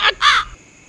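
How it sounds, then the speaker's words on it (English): A crow flying past gives two quick, loud, harsh caws close by, the second longer than the first, followed by near silence. "Then a crow flew past Thomas."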